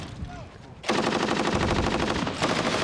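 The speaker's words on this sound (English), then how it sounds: "he was then filmed firing a machine gun in what seemed a random manner" Machine gun fired in sustained bursts over a city in old archive footage, a loud, dense, continuous rattle of rapid shots that starts abruptly after a quieter opening and runs to the end, with a brief dip near the close.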